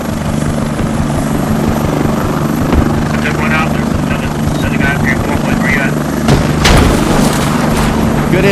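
A helicopter hovers overhead in a video game, its rotor making a loud, constant thrumming drone, with a few sharp impacts and distant bangs near the end.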